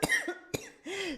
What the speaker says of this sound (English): So you're just gonna have to hear me cough.